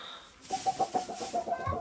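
A hen in an unheated coop clucks in a quick run of short, close calls right after laying a large egg, with no talk over it.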